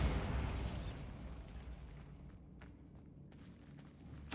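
A Bombarda spell in Hogwarts Legacy bursts with a loud, close explosion that rumbles away, followed by faint scattered taps and a sharp knock at the very end.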